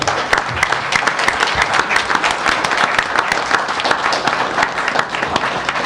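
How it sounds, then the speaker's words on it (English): A room of people at a town council meeting applauds a championship-winning coach, steady dense clapping that holds throughout with slight swells and no clear voice on top. "and we really applaud you"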